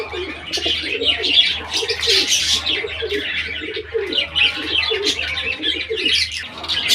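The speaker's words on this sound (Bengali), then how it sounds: "খুব সুন্দর একটা জোড়া একদম ডিম বাচ্চা রানিং এই মুখী কবুতরা" Mukhi pigeons on a pigeon farm coo and chirp in soft, repeated calls, with faint background bustle and a low steady hum underneath.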